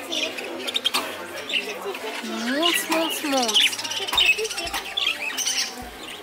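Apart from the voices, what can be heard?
parrot calls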